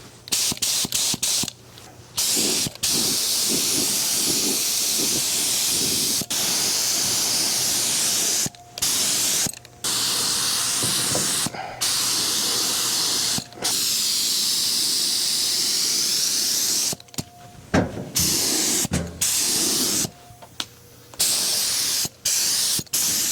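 A paint spray gun hisses out Rust-Oleum paint in a series of loud, sustained bursts of varying length, broken by abrupt silent pauses between squirts.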